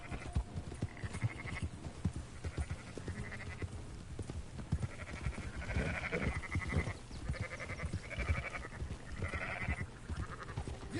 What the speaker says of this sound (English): Come on, sheep, let's go.